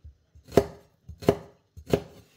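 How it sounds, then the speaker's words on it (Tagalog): A knife chops red onion on a board in three sharp, evenly spaced thuds, each with a faint scrape before it, close and isolated. "Ngayon, hihiwain natin yung ating onion."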